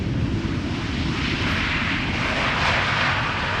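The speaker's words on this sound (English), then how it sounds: "the landing of a KLM 737" A KLM Boeing 737 landing at Amsterdam Schiphol Airport gives a steady, loud engine roar with heavy low rumble that holds evenly throughout, no voices.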